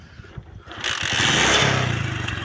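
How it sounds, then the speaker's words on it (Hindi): Motorcycle pushing through flood water in a submerged village area near Jalalpur Pirwala, the engine rising from a low putter into a loud, steady roar with churning noise, close by and without speech. "जाते हैं फिर आगे अगर चल सकते हैं मोटरसाइकिल तो"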